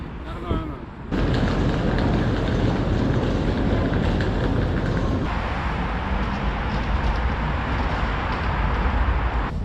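A metro train rumbles at a station platform, a loud continuous rolling roar with rail clatter that holds steady for several seconds.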